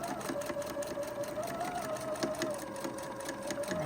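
Sewing machine stitching steadily along the edge of a beginner's DIY apron, a continuous mid-pitched motor whir with faint rhythmic needle ticking, moderately quiet and close.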